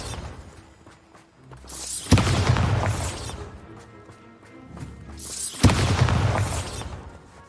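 Bombarda spell blasts in Hogwarts Legacy, two loud booming explosions about three seconds apart, each a sharp crack swelling into a rumbling burst over low ambient game hum.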